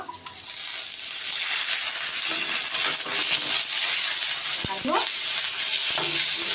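Fish oil from katla fish goes into a pan of onions already fried red, setting off a loud, steady sizzle with scraping and stirring close up.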